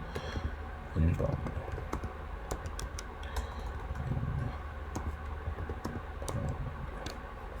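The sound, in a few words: typing on a computer keyboard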